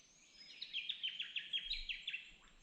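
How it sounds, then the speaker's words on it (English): Birds chirp and trill in a quick repeated pattern, fairly faint and a little distant, over a quiet outdoor background. "Hear the birds."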